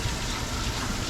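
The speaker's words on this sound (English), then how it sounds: "It's raining back here." Steady rain falls over an outdoor studio backlot set during a theme park tram tour, a continuous broadband wash of patter with no distinct drops or voices.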